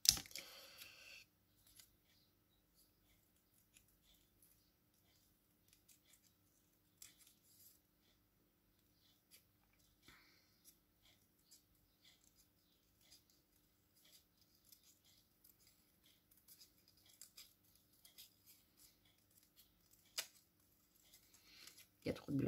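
Small scissors snip out a paper balloon with quiet, sparse cuts spread across a mostly hushed scene, with a few sharper clicks near the end.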